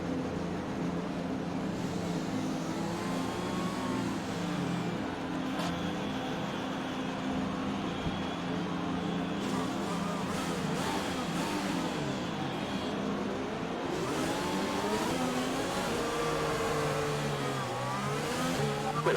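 A Formula 1 race car engine roars continuously through a practice start in a Spanish Grand Prix racing video game, with loud revving and shifting engine tones and other cars droning alongside.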